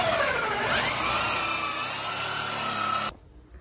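A 3.5 inch drill bit grinding through a wall for a mini-split line, a loud continuous rasping whir with rising pitch that cuts off abruptly near the end.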